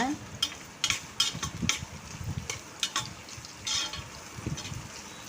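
Sliced onions and green chillies sauté in hot oil in a pan for mutton biryani, with a soft continuous sizzle broken by repeated scraping stirs of a spoon, close and moderately loud.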